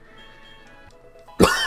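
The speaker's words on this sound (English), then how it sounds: "Apparently I've still got my cough." A single sudden, loud cough near the end of a quiet stretch with faint background sounds.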